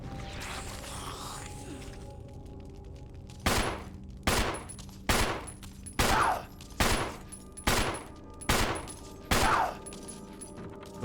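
Eight loud shotgun blasts from Resident Evil 1, fired at an even pace about every two-thirds of a second, each a sharp crack with a short decay, over a low steady game background.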